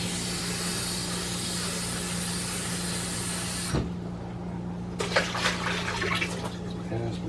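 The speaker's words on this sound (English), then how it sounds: "I'm gonna rinse this off." Tap water runs broadband and steady over a cooking pan being rinsed, cutting off abruptly midway, then returning as patchier splashing and spray, close up in a home kitchen.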